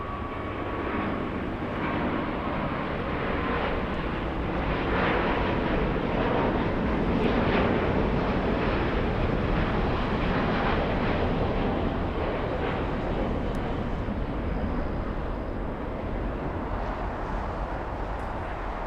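An Airbus A350 airliner at LAX airport makes a loud, sustained jet roar that swells in the middle and holds steady for the whole stretch.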